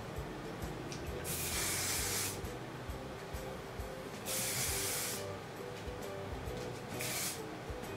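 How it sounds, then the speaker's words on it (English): Hairspray from an aerosol can hisses onto styled hair in three separate bursts, each lasting about a second or more, separated by short pauses, close and fairly loud over a low room hum. "And then I shape it one last time with some hairspray."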